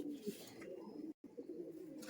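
Giribaz pigeons at a low-price pigeon sale in West Bengal coo softly in low, murmuring tones, a steady flock sound with a brief silent break partway through.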